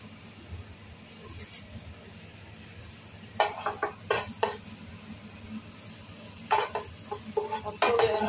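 Garlic fries in hot cooking oil, a steady low sizzle broken by bursts of stirring and scraping in the pan, heard up close.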